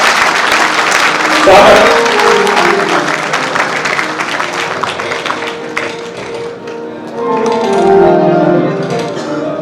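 An audience applauds to welcome a young girl to the stage at a Hindu Janajagruti Samiti event, with loud clapping under a voice on the microphone, fading briefly and then rising again.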